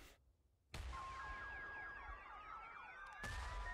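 Car alarms go off in a city center in the tank battle game Tank Force, with a wailing, warbling electronic tone sweeping up and down, partly behind abrupt loud bursts of game noise.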